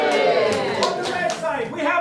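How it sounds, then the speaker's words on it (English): A live audience at a Minstead performance group fable show cheers and claps for the brave knight, a dense, steady crowd roar with scattered claps running loud throughout. "Everybody give a cheer."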